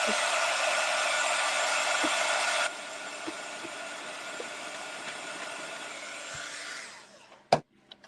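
Hair dryer blowing to dry white paint coating on a thrifted jewelry box, a loud steady rushing roar that drops to a lower setting partway, then shuts off with a brief clunk near the end.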